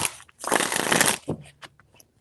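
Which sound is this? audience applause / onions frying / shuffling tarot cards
shuffling tarot cards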